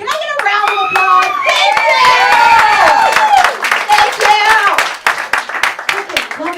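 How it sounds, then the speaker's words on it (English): Audience clapping and cheering at a stand-up comedy show, a loud burst of applause with whoops that swells, then thins into scattered claps. "Can I get a round of applause?"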